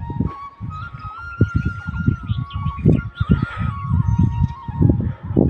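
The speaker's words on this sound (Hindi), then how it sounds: "अपनी मुर्गियों को चराने के लिए" Chickens being taken out to graze in a cold Uttarakhand hill village, with busy, repeated low clucks and calls close by and a faint steady tone running underneath.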